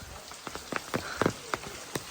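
Light rain with scattered drops tapping a nearby surface at irregular intervals, fairly quiet overall.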